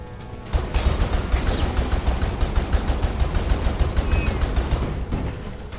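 The Kanonier gunner class in the video game Skyforge fires a long rapid stream of evenly spaced shots, a loud rattling barrage that continues for several seconds after a brief quiet start.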